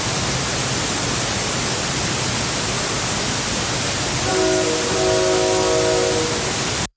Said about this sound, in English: Here's that exact same train whistle.